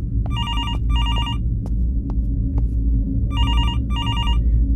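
A telephone in a horror video game rings in two clear bursts of trilling bells, one at the start and one near the end, over a steady low droning hum, with faint thumps in between.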